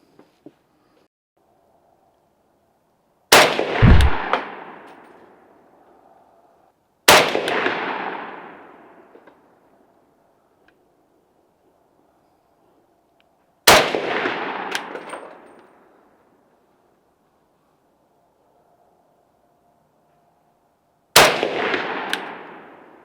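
Four sharp, loud rifle shots from a Type 81 SR Dragunov-style rifle at a range, spaced several seconds apart, each a crisp crack followed by a short ringing echo tail, with quiet between.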